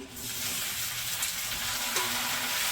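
Tomatoes dropped into hot oil sizzle and hiss loudly and steadily up close, a bright crackling fry that continues without pause.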